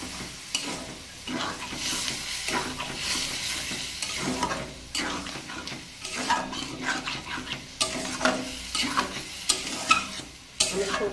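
A spoon stirs mustard paste into prawn curry frying in a pan, with repeated scraping strokes against the pan over a constant close sizzle and occasional utensil clinks, no voices.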